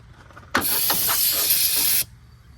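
Brake cleaner sprays from an aerosol can onto dirty plastic during basic maintenance on a Honda Civic, one loud steady hiss lasting about a second and a half, close by, starting and stopping abruptly.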